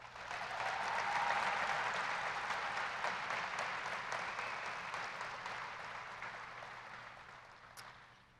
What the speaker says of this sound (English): if you'd give them all a round of applause